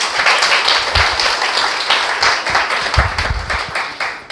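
An audience at a marketing presentation event applauds the preceding presenters. The clapping is steady and fairly close, with individual claps audible within the applause.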